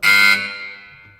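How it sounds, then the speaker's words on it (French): A handball scoring table buzzer sounds for a timeout, one loud sustained electronic blast of about a third of a second that then rings down and fades. "À ce moment-là, vous mettez un coup de buzzer"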